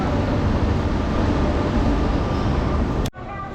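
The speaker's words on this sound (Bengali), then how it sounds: "এই হচ্ছে আমাদের ট্রেন ঢুকছে" The 12666 Kanniyakumari–Howrah Superfast Express pulls into a station with a loud, steady rumble of wheels and carriages that fills the scene, then cuts off abruptly near the end.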